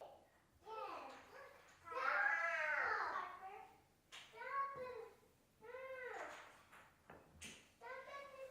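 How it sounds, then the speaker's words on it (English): Babies babble and coo with high, voiced chattering in several bursts across the whole stretch, no adult speech, heard from a moderate distance in a home kitchen. "you can hear the babies in the background having a wonderful conversation"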